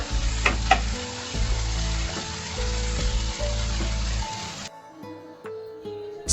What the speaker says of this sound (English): Fry at medium flame for 5 minutes. Stir occasionally.